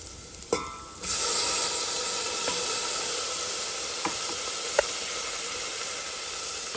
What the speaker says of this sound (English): Now we're gonna go in and we're gonna add our roasted red peppers.